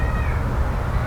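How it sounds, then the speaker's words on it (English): A cat meows once in a drawn-out, strained cry from atop a garden arbor, loud and close over steady outdoor noise. "a crazy cat named Mickey"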